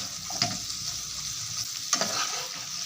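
Egg gravy fries in a pan with a steady, soft sizzle throughout, broken by two distinct scraping stirs of a spoon against the pan.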